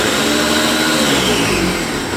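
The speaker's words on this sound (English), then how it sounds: "You're using a blender, but a food processor will work just as well." A blender runs continuously while making Big Mac sauce, giving a steady, loud, close whirring roar with no pauses and no talking.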